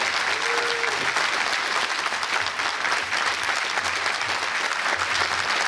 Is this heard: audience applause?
yes